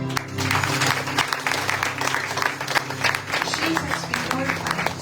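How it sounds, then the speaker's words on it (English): Congregation clapping together at a Sunday evening church retreat in Margao, a dense, steady wash of applause filling the room with no break, crowd noise mixed in beneath. "I want you to give a clap offering to the Lord."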